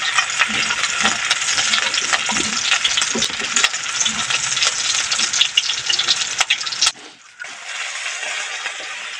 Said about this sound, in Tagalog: Igisa na natin bawang sibuyas.